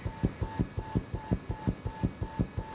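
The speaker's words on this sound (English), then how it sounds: "it emits a high-pitched sound audible only to those under the age of 25." High-pitched Mosquito anti-teen deterrent tone of the kind used outside shops: a thin, piercing, steady whine held without a break over a faint, regular low throb, with no voices.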